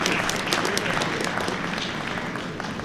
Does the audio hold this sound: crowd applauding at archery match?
yes